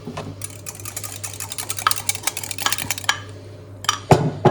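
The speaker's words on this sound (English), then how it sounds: "And then give it a good whisk." A whisk clatters rapidly against a bowl, beating a dressing of Dijon mustard, syrup, salt and pepper; a dense run of quick, bright taps lasting a few seconds, close and loud, ending with a louder knock.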